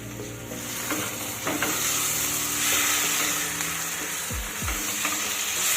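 Taro greens with shrimp sizzle steadily in a hot wok, with occasional scraping stirs of a spatula against the pan, close and continuous with no talking.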